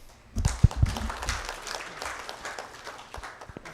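A conference audience at the launch of Uganda's second EITI report bursts into applause, starting with a few sharp claps, then a scattered, moderate clapping that gradually thins out.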